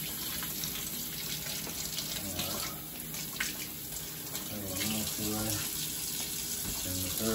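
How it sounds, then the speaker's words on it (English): A kitchen tap runs hot and cold water continuously as freshly cleaned catfish fillets are rinsed, a steady splashing hiss with some clatter from handling under the flow. "we're gonna wash these fillets again, rinse them off"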